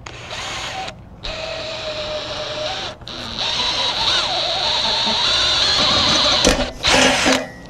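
Power drill boring holes through a bike rack for stainless hex bolts, a close whining motor that starts and stops in short bursts, then runs longer and harder under load, with a strained pitch that wavers toward the end.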